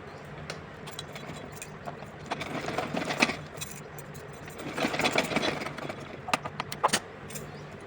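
A sewing machine stitches a small half-sleeve summer frock for a Kanha ji idol, running in intermittent close bursts with short pauses between seams.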